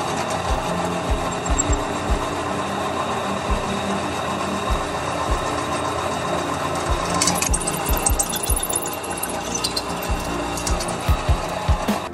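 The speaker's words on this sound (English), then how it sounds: "Stainless steel is an incredibly hard metal, so I'll be using these Milwaukee cobalt drill bits." Stainless steel being drilled with Milwaukee cobalt bits while fabricating a custom outboard motor bracket for a sailboat: a steady, loud motor whine with grinding bit contact, running continuously for about twelve seconds with brief surges, no talk.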